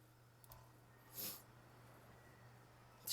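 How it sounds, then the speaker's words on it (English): A single short sniffle through the nose, close to the microphone, lasting about a quarter second against a quiet background hum, with no talking. "Excuse the sniffle."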